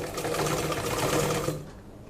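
A sewing machine stitches a half collar on fabric in one continuous fast run of needle clatter lasting under two seconds, then stops abruptly, close and alone.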